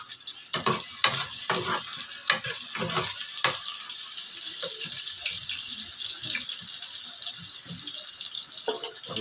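Garlic sautés in a pan with a steady, bright sizzle, broken by scattered clinks and scraping stirs early on, close and without speech.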